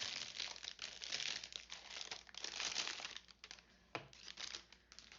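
Plastic wrapping on a sticker sheet pack crinkles and crumples up close as it is torn open, in bursts of quiet rustling with a sharp snap near the end.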